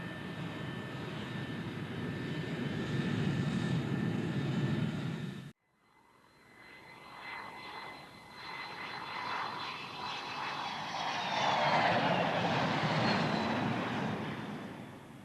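A Boeing B-52H Stratofortress turbofan jet bomber, the first H model, flies on its maiden flight. A steady, loud roar cuts off abruptly, then a broad jet rush swells back up and holds strong.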